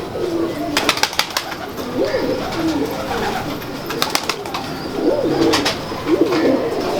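Pigeons at a Lahore pigeon fancier's loft coo in soft repeated phrases, joined by sharp bird chirps and light flapping, with no one talking.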